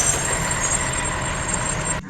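A video game truck with air brakes rumbles loud and steady with a high hiss running over it, then cuts off abruptly near the end.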